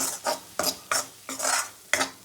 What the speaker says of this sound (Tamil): இந்த கடலை மாவு இதிலே போட்டுக்கலாம். நல்லா வறுத்துக்கலாம்.